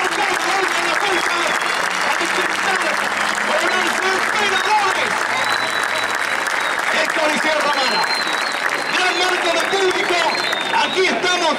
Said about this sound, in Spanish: el aplauso para todos ustedes y por supuesto para nuestros pilotos